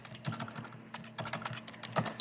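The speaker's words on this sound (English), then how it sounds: "you're going to type in mass" Typing on a computer keyboard, a quiet, fairly quick run of light key clicks in uneven bursts, close but soft, with no talk.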